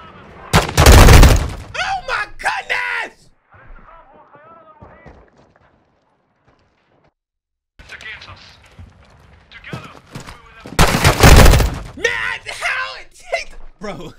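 Gunfire in a video game cracks out as two loud, sharp bursts several seconds apart, with excited voices talking between and after the shots.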